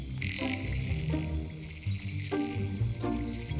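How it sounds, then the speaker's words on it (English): A loud, dense chorus of frogs croaking and calling over one another, with crickets chirping steadily underneath. "loud calls come from big frogs"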